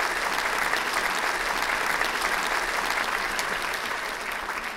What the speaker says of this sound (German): Also einmal bitte Applaus an Ruben, sein Team.